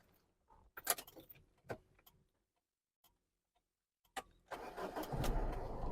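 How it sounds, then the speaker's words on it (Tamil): A few sharp clicks and ticks, a brief quiet, then a diesel sedan engine cranks and catches, settling into a steady running rumble close by. "இப்போ நான் ஸ்டார்ட் பண்ணுறேன் அந்த வண்டியோட இன்ஜின் சவுண்டை வச்சு நீங்களே சொல்லுவீங்க"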